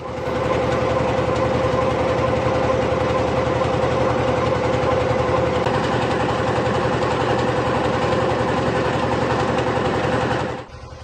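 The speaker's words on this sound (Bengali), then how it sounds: "এখন ট্রলার চালু হবে আমরা রওনা দেব" Diesel engine of a fishing trawler running at a steady, loud drone with a constant low hum and rhythmic chugging throughout, cutting off near the end.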